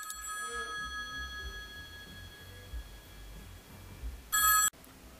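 Telephone ringing with a steady electronic tone over low background rumble, then a brief louder burst of ringing near the end that cuts off abruptly.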